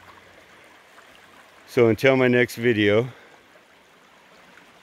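Canyon Creek in Gifford National Forest, Washington flows as a steady, soft broadband rush of water, while someone speaks briefly close by over it.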